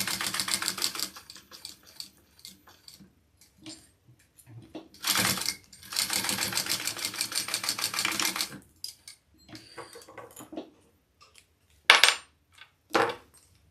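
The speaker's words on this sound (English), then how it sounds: "now we want to top stitch that just along this top folded edge and the side with the connector" A sewing machine top stitches along a folded fabric edge in short bursts of rapid, rattling stitching, two longer runs among brief stops, close and fairly quiet, with small handling clicks between.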